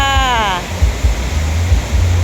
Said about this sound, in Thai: บรรยากาศน้ำตกตาต้น